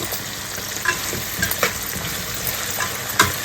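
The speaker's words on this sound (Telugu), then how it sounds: "ఈ కోసి పెట్టుకున్న పెద్ద ఆనియన్ ముక్కలు ఉన్నాయి కదా ఈ వేస్తున్నాను" Large onion pieces frying in hot oil for vegetable pulao, a dense close sizzle broken by a few stirring scrapes and pops, loud and unbroken.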